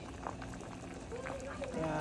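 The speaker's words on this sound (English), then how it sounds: "It's still boiling" Water bubbles and churns at a rolling boil in a cooking pot for pumpkin chapati, a continuous close, moderately loud simmering texture with a few brief tonal sounds layered in near the end.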